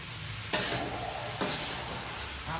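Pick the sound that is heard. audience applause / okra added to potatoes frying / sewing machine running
okra added to potatoes frying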